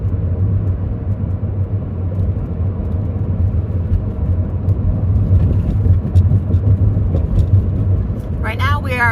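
A vehicle drives along a desert road parallel to the I-10 near Quartzsite, Arizona, giving a loud, steady low rumble of engine and road noise that stays constant, with a voice briefly starting at the end.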